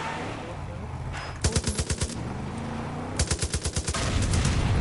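Automatic gunfire in the video game Far Cry 5 comes in two rapid bursts of about half a dozen shots each, loud and close over a constant background of game ambience.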